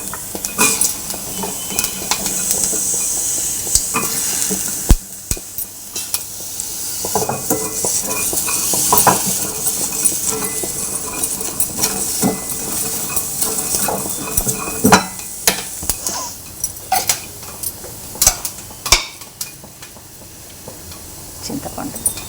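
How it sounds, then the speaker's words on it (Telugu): Grated coconut lightly frying in a pan, a soft steady sizzle under scraping spatula strokes and occasional metallic clinks of utensil against the pan, close and continuous throughout. "కొబ్బరి కూడా కొంచెం గోరించగా అట్లా కొంచెం లైట్గా వేయించుకుందాం."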